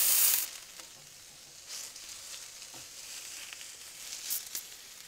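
Sous vide chicken breasts searing in avocado oil give a soft, steady sizzle with a brief louder crackle at the start and a few small bursts later, no talking.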